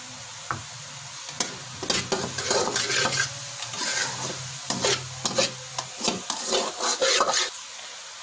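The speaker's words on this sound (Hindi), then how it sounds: "अब ये काफ़ी हद तक भुन चुका है।" A sweet made from cow colostrum is stirred and roasted in a pan, with a run of uneven scraping strokes over a soft sizzle, close and clear with no talk.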